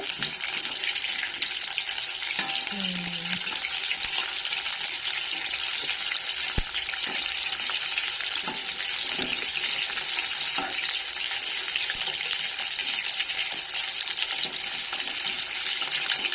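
Steady, loud sizzling of fish pakoras frying in hot oil, continuous throughout with occasional faint clinks and no talking.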